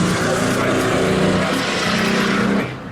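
A loud motor vehicle roars past close by, a steady engine drone that fades slightly at the end.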